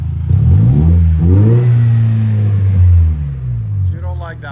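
A 2.4L turbo Toyota Tacoma pickup fitted with a Magnaflow Magnapack muffler revs up and holds a steady drone for a few seconds before dropping back, with people talking briefly near the end.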